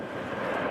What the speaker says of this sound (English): Airbus A350. It's a big one.